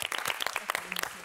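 Short burst of clapping for the third-place team DV11 at a student competition show, a few quick, fairly close claps from a small audience lasting about a second.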